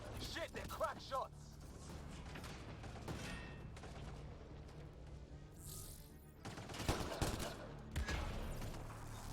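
Dense gunfire and bursts of weapon fire during a combat sequence in Mass Effect: Andromeda, sustained and fairly loud, with sharp crackling volleys and a heavier burst near the end, mixed with battle noise and voices speaking.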